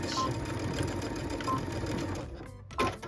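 Sewing machine running steadily as it back stitches a fabric tablet sleeve seam, a close continuous mechanical whir that pauses briefly near the end before starting again.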